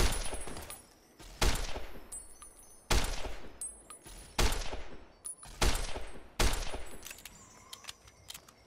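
Repeated bursts of gunfire in Fallout New Vegas, roughly half a dozen loud volleys and rattling automatic fire spaced about a second apart, each trailing off into a noisy game background.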